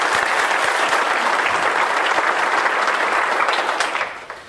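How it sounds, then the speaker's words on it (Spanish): A large audience at a round-table talk claps in sustained, dense applause that holds steady and then tapers off at the end. "Así que un aplauso para Eduardo."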